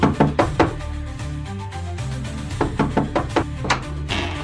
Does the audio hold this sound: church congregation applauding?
no